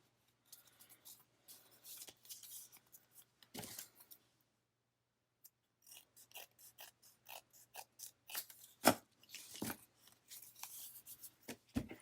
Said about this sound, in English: I'm going to offset it just a little bit and I'll just trim off the excess.